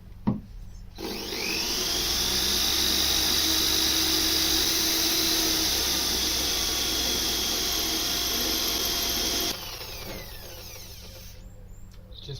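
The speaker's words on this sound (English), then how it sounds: "I'm going to now actually pilot drill the stainless steel bit" Power drill pilot-drilling stainless steel for a roll cage install in a Mazda MX-5, revving up to a long steady grinding whine under load for several seconds, then easing off, close and loud.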